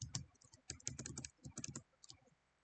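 Fingers type on a computer keyboard, crisp, fairly close key clicks in quick uneven bursts with short pauses between them, quiet overall and with no voices.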